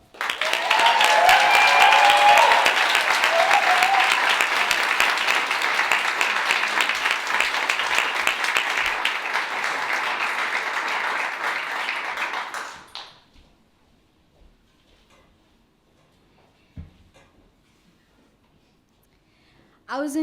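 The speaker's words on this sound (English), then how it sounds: "please give our first storyteller a huge round of applause, Alondra." A live storytelling-event audience gives a round of applause, dense clapping with some cheering for about twelve seconds that then cuts off into near silence, with a few faint knocks afterward.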